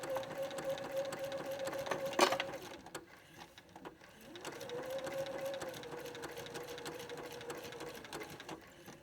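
Sewing machine stitching an appliqué orange peel border, running in a steady close whir that stops briefly with a sharp mechanical clunk before resuming.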